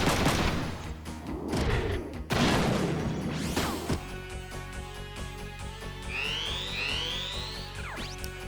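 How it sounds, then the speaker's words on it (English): Shotgun blasts in the mech combat game Front Mission 3, a few heavy booming shots and crashes in the first seconds, then electronic tones and rising game effects carry on with no talking. "let's use the shotgun"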